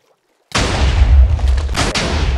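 A loud boom from video game gunfire erupts after a short silence, with a heavy low rumble that carries on and a second sharp crack near the end.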